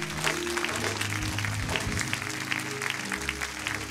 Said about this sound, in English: Come on, somebody give God a hand clap of praise.